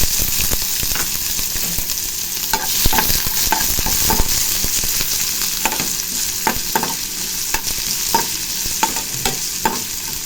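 Mustard seeds, cumin, fennel and onion frying in hot oil, giving a loud, continuous close sizzle dotted with sharp crackles and pops, with no talk.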